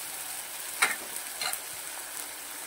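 Besan filling frying and roasting in a pan, a faint steady sizzle with a couple of brief scraping stirs, alone and close.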